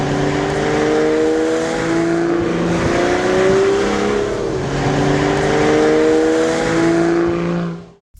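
A 2014 Aston Martin Vanquish engine revving loudly and close, a sustained droning roar with rising and falling pitch as it accelerates, ending in an abrupt cut.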